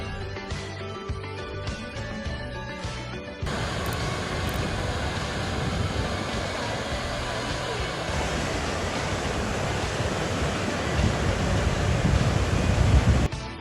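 Water rushes forcefully out of a dam outlet near Chunchi Falls outside Bangalore, a dense, loud, continuous roar that swells slightly and stays steady, heard close, after a few seconds of quieter ambience.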